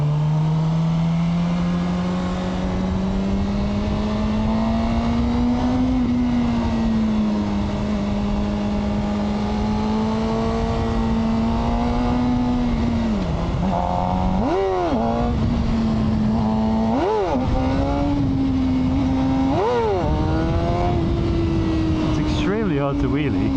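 Suzuki GSXR motorcycle engine while riding, a loud steady drone that rises and falls with several quick revs and gear changes, heard continuously under wind noise.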